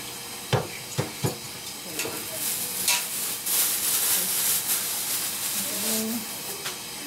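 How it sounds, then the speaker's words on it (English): Brussels sprouts rinsed in a strainer under a running tap, a steady hissing wash of water after a few sharp clanks as they are handled. "I'm gonna rinse them off now."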